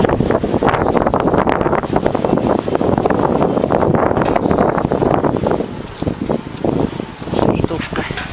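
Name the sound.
strong wind blowing leaves in a garden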